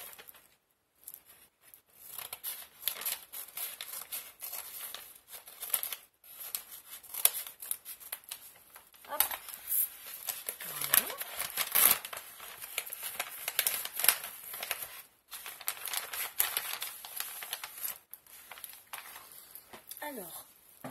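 Paper envelope holding ATC trading cards being torn and opened by hand, with continuous close crinkling, ripping and rustling of paper throughout, broken by brief pauses.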